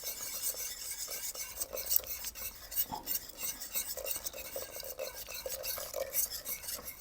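Polenta being whisked in a pot at a gentle simmer as it thickens, giving a steady scraping, rasping stir with light clinks of the whisk against the metal, continuous and close, with no talking.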